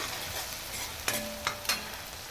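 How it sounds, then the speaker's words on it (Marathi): Onions being stirred in a hot pan for pasta, a soft low sizzle broken by three sharp spoon-against-pan clinks in quick succession, close and fairly quiet. "कांदा आता मी हे चांगलं मिक्स करून घेते"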